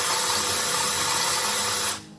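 An electric drill spins an engine valve from a 1950 Morris LC3 engine during a teardown, giving a steady close whirring and rubbing grind that runs evenly for about two seconds before cutting off abruptly.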